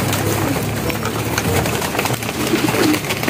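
Pigeons coo at a busy pigeon market, several birds overlapping in a steady, close chorus of low throaty calls with crowd and market noise underneath.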